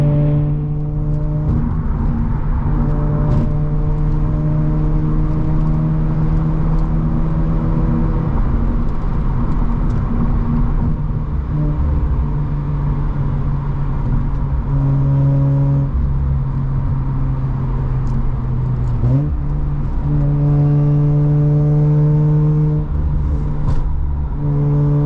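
A car fitted with an aluminum undertray cruises an empty, somewhat twisty highway, its engine a steady close drone whose pitch rises and falls through gear changes, with no one talking.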